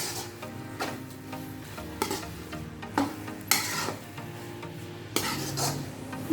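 Carrot halwa is stirred in a pan, a soft oily sizzle under repeated scraping strokes and clinks of a metal spoon against the pan at an irregular rhythm, close up with no talking.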